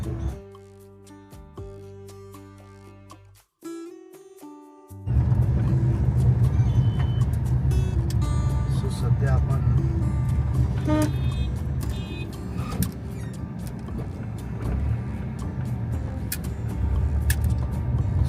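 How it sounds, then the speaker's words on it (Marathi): Road traffic near Narayanpur, Pune, with work under way: a steady wash of passing car engines and tyre rumble fills the scene after a brief quiet opening, close and continuous, with occasional horn toots and no talking. "सध्या आहे नारायणपूरमध्ये मी आणि ते आय थिंक काम चालू आहे त्यामुळे असे काही ट्रॅफिक आपल्याला इथे पाहायला मिळते"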